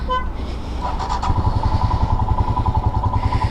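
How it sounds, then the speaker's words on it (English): A Royal Enfield Himalayan BS6 motorcycle engine cranks and catches, then settles into a steady close, rhythmic thumping idle. "So it starts with a typical Royal Enfield thump"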